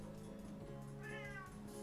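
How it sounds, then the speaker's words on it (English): A cat gives a single clear meow, close but faint, over a constant low background hum. "Oh my god, cat, shut up."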